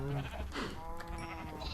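Sheep bleating in a modded game world, a few short harmonic bleats layered over steady background game ambience, moderately faint.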